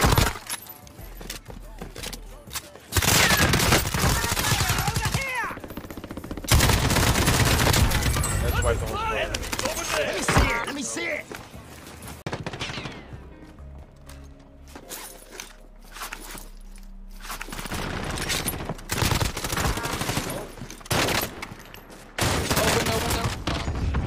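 Gunfire in Call of Duty: Warzone, with repeated loud bursts of automatic fire separated by quieter gaps, plus footsteps and gear rustle, while players talk over the action.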